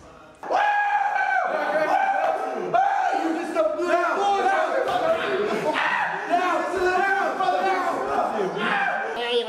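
Loud crowd cheering and shouting for MC Enchilito rises abruptly and holds throughout, with overlapping yelling voices and excited whoops merging into a constant boisterous roar.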